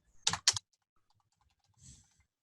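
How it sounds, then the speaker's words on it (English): Two quick bursts of typing on a computer keyboard, close and clear, then a faint softer patter of keys, with no talking. "my typing has just got really atrocious lately"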